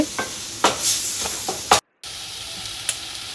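Tomatoes and two green chillies being sautéed in a pan for chicken gravy: a soft sizzle runs under scattered scraping and stirring clicks, broken by a moment of dead silence partway through.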